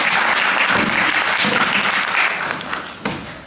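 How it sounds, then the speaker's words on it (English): A conference audience applauds a speaker being introduced at an education event, with dense clapping from many hands that rings steadily and starts to thin out toward the end. "So, let's give it a round"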